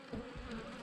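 Honey bees buzzing at an open hive while splitting it into nucs, a faint, brief, steady droning hum.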